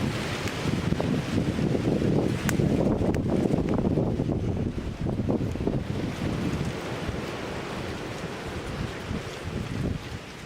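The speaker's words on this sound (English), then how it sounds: "Bloody wind is a killer." Strong wind at an outdoor winter campsite roars and buffets the microphone steadily with loud gusty rumble, and no one speaks.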